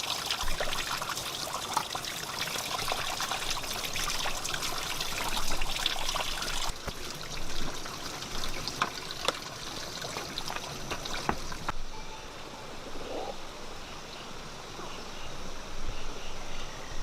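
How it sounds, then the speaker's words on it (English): Gravity-fed water running continuously from a bamboo pipe, a steady splashing trickle that carries on unbroken, close by and fairly loud, with small shifts in texture as the flow lands. "The continuous flow from the bamboo pipe provides a reliable stream for washing"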